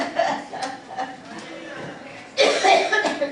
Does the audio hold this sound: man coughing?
yes